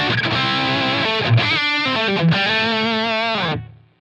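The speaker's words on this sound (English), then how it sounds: "here is the rev sound without the Cosmos Echo on" A heavily distorted electric guitar plays sustained chords through a Line 6 Helix reverb patch with no Cosmos Echo, ringing loud and thick for several seconds before cutting off into a brief reverb tail.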